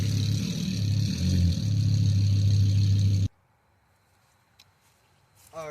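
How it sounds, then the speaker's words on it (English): A truck engine drones loud and close with a deep, throbbing low tone for about three seconds, then stops abruptly into near silence, with a short rising sound at the very end. "Truck noises."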